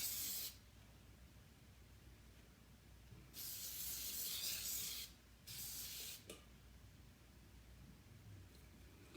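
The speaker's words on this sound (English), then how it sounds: "I'm gonna spray my hair, and this is Trois Chic through a hairspray by Lunge" Hairspray hisses onto curled hair in three close bursts: a long spray, a pause, then a second spray, with a short third burst after it. The sound is faint over a quiet room.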